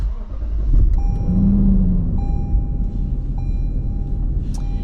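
A Lexus car engine idling steadily, loud and close, with a low continuous rumble, a faint whine and a few light clicks.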